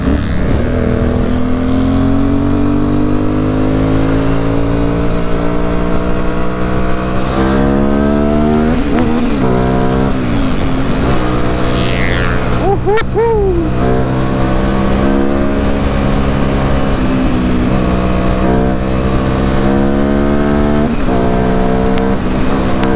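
A modified Yamaha Byson motorcycle revs hard at high speed, its engine a loud, continuous throttled roar that climbs and dips through gear changes with steady wind rush, close and unbroken throughout with no talking.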